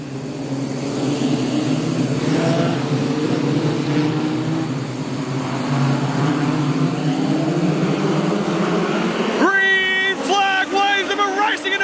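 Modified sedan race cars roar together at the start of a speedway final at Carina Speedway, a dense sustained engine wall under commentary, then revs climb sharply as the pack accelerates away near the end.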